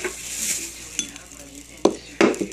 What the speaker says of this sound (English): I also got these glass bowls right here.